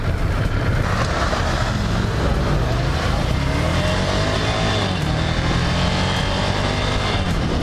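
Ducati motorcycles at a test-ride day in Adana roar at full throttle, a loud, continuous engine blare with rising and falling revs, buffeted by heavy wind noise and no clear voices.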